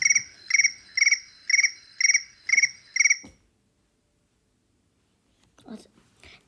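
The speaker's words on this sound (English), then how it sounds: "Crickets." Apple iPhone 'Crickets' ringtone: seven evenly spaced bursts of bright electronic cricket chirps, clear and close, then silence and a faint rustle or soft voice near the end.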